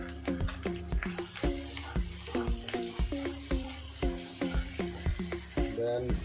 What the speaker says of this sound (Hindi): अभी ये लहसुन पेस्ट ऐड कर रहा हूँ 2 टेबल स्पून